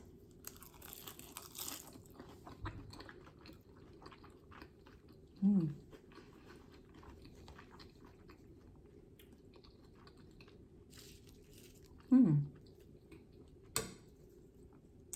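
A mouthful of seaweed-wrapped fried rice with avocado and cucumber is chewed softly in a quiet room, with a few faint crunches and two louder bursts from the mouth over the long quiet stretch.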